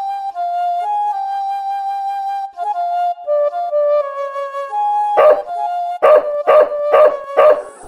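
A dog in The Blackwell Legacy adventure game, its leash tied to a trash can, gives a long wavering howl, then five sharp, loud barks in quick succession near the end, with no talking.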